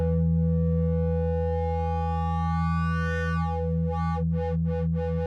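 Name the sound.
synthesizer sine wave tone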